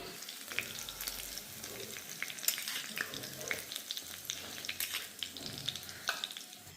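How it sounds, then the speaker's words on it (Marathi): Hot tempering (phodni) poured over dhokla sizzles and crackles steadily and close by throughout, with faint splashy fizzing and no voices. "इकडं गोड पाण्याची फोडणी टाकली आहे"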